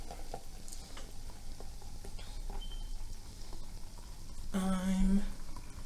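A drink poured steadily, giving a faint continuous trickling fizz, with a short voiced sound near the end.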